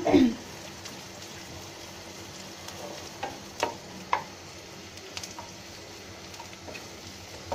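Chopped onions fry in a pan of oil for aloo dum, giving a soft continuous sizzle with occasional faint stirring taps and clicks.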